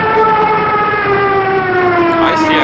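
A German Stuka dive bomber's siren wails in the WWII strategy game Battle Academy, Operation Sealion: a loud, steady, tonal wail that slowly sinks in pitch, heard alone.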